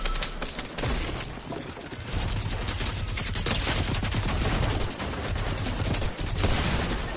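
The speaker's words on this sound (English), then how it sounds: "wow, shotgun to the face" Gunfire in Fortnite gameplay, with dense rapid bursts of shots and loud blasts running almost continuously, close and sharp, with no talk over it.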